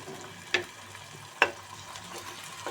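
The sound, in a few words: frying onion leaves with green chilli, onion and garlic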